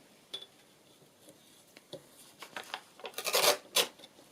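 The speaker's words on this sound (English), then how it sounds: "I want to just trim that down a little bit more." Paper from a book page is cut and trimmed down by hand, soft scraping and rustling at first that grows into a cluster of louder, close snips and rasps toward the end.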